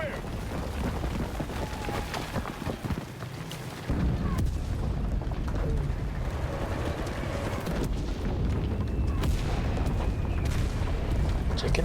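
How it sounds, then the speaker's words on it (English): Artillery fire booms across a World War II battlefield in the video game Enlisted. Dense, loud rumbling and blasts pile up into a continuous roar, with a sharper surge partway through and voices talking underneath. "Do artillery now."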